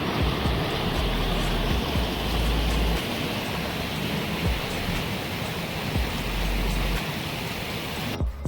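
Muddy waterfall in Rotorua's wooded nature area, a steady, close, full roar of falling water rushing on without pause.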